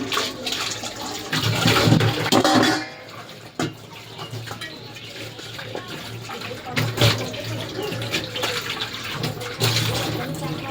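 Kitchen items washed under running tap water during a morning cooking routine, with a steady rush of water broken by splashes and a few pauses.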